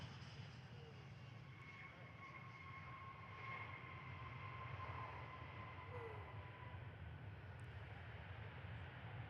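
A Jetstar Airbus A321 with a grey tail lands on runway 03, heard as a faint, distant, steady engine roar with a thin whine over a low rumble.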